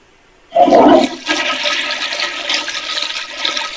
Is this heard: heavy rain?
no